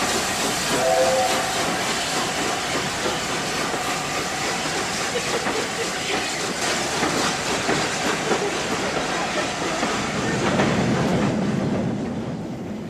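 LNER A4 steam locomotive Mallard pulling away beside the National Railway Museum in 1988, a loud, sustained roar of escaping steam and hiss with a steam whistle sounding near the start and swelling again toward the end.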